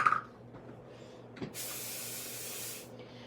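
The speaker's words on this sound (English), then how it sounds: "I'm just gonna spray this off screen" A spray bottle hisses steadily onto cardstock for about a second and a half after a soft tap, then cuts off, close and fairly quiet.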